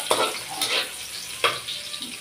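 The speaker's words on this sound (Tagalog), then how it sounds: "Lutuin lang natin ang sibuyas." Onion and garlic sautéing in a cooking pan for a mung bean and malunggay vegetable dish, with sizzling frying and a few stirring scrapes in short bursts, close and moderately loud.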